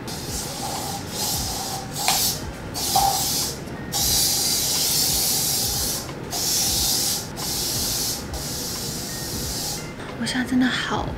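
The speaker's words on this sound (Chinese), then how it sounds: "我刚发现酒店还准备了这个消毒喷雾" Disinfectant spray supplied in a hotel room, released in several hissing bursts of a few seconds each with short pauses between them, close and fairly loud over faint room noise.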